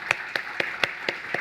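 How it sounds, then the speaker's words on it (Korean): Six sharp hand claps ring out at a steady beat in a church, near and moderately loud, with no other voices. "우리 다시 한번 영광의 박수 드리겠습니다"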